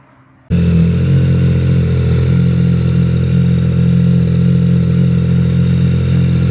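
A Yamaha R9 motorcycle with a new M4 full exhaust starts after a moment of quiet and then idles loudly and steadily, a deep throbbing rumble up close.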